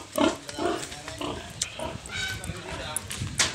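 A mother pig grunting on a farm in Nasugbu, Batangas: a run of close, loud, rough grunts and snorts in irregular bursts, with someone talking over and between them.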